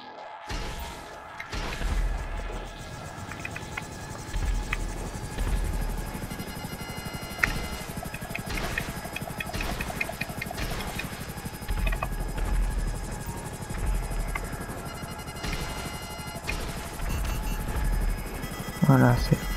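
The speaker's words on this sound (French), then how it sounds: "Ouais, c'est un hélico du DLC." Helicopter in the video game GTA 5 Online, a new DLC aircraft: a steady rotor and engine drone running throughout with occasional impacts and whooshes, while people talk over it in French.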